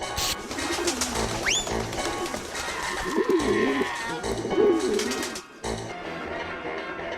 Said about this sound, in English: the pigeon side quest, where we help take down undercover pigeons that drop pigeon spray